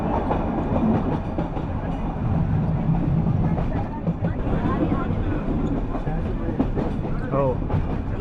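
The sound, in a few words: Coonoor toy train running on mountain track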